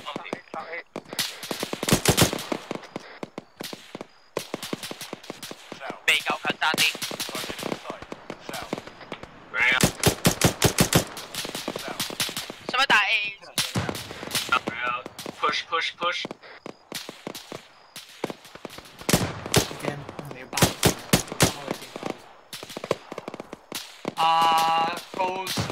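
Machine guns and rifles fire in the Arma 3 military shooter, with rapid bursts and single shots cracking loudly in irregular clusters while players talk over the gunfire.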